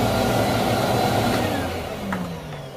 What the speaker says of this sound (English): So you've got your old vacuum cleaner